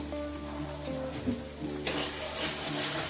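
Spice paste (masala) for a paneer curry fries in a pan with a steady broadband sizzle, growing brighter and hissier toward the end, with faint scraping underneath.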